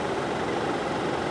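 A Proton S70's small three-cylinder engine idles close by, heard from the front of the car, a steady, even rumbling hum with no voices over it.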